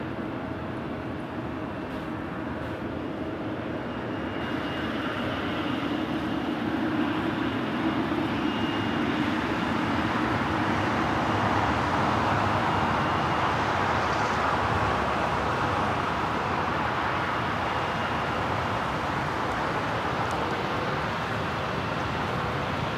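American Airlines jet taking off from runway 25 right at LAX: engine roar builds from a distant hum to a loud, broad sustained rush that holds steady as the aircraft accelerates down the runway.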